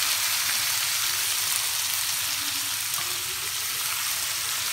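Aloe vera and mango pieces fry in oil for a pickle, giving a steady, even sizzle with faint stirring scrapes underneath, close and constant throughout.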